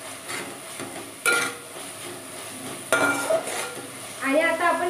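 Ginger-garlic paste being stirred and mixed in a pan for Mumbai street-style pav bhaji: a few scraping, clinking strokes of a utensil against the pan, with bursts around the first second and near three seconds over a soft background.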